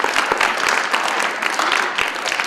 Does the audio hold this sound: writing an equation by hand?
no